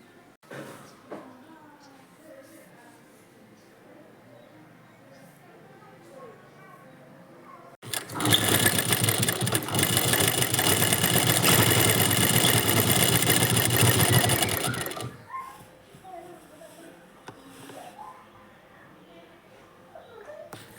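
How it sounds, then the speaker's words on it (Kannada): Sewing machine running in one continuous loud burst for about seven seconds while stitching the side seam of a nightie, with quiet room sounds before and after. "ಇದು ಕೂಡ ಅಷ್ಟೇ ಎರಡು ಹೊಲಿಗೆನ ಹಾಕೋತಾ ಇದ್ದೀನಿ."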